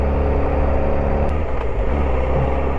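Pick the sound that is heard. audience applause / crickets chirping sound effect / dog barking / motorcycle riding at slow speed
motorcycle riding at slow speed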